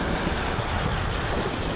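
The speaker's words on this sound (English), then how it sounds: "Ooh, the waves." Ocean waves at a beach near a sandbar, a loud continuous wash of surf mixed with heavy wind buffeting close to the microphone, with no talk.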